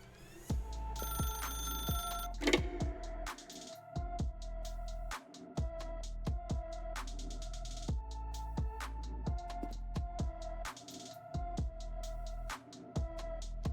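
In the video game The Stanley Parable, a telephone rings repeatedly in steady electronic bursts with brief pauses, fairly clear and close, with no talking.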